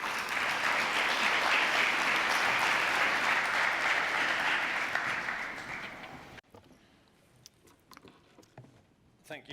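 Warm audience applause greets a panel speaker at a conference event on globalization, a loud steady wave of clapping that fades over several seconds and then cuts to a quiet room with a few stray sounds.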